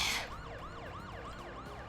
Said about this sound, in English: the siren makes it feel faster at least